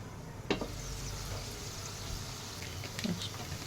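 Capsicum frying in a pan, a steady soft sizzle running throughout with a couple of brief stirring clinks.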